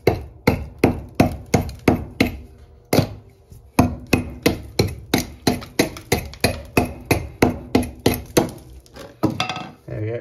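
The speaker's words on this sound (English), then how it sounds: "I'm going to take my scotch hammer and just take a small sample." A scotch hammer chips gypsum plaster in rapid, regular blows, sharp clinking chips repeating close up with a short pause partway through.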